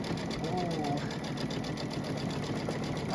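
A domestic sewing machine runs a basting stitch on a Kimberbell pillow panel, a fast, even mechanical whir with a rapid regular pulse, close and steady throughout.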